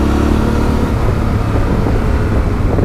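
A Yamaha Ténéré 700 fitted with Touratech progressive springs climbing a twisting mountain road through tight turns, engine droning steadily with wind rush, close and fairly loud, no voices.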